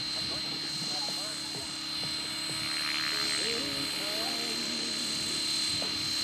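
Electric RC helicopter, a 600e Pro, flying nearby with a steady whirring rotor hum throughout, while people talk over it.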